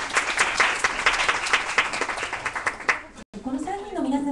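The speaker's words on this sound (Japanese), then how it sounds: "どうぞ皆様大きな拍手をお願いを" Enthusiastic audience applause for three singers introduced before a Japanese art song and opera stage, lively clapping for about three seconds, then a brief cut and a voice speaking.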